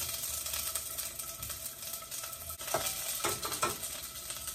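Ingredients for a meatball broth fry in a small amount of oil, giving a faint, steady sizzle and crackle with occasional stirring scrapes, and no voices over it.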